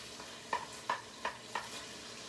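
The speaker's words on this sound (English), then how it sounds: "as you can see, we're mixing the whole thing up" Orange marmalade being stirred into a mixture for a Thanksgiving appetizer, four evenly spaced scraping stirs over a low sizzling hiss, close and quiet with no voices.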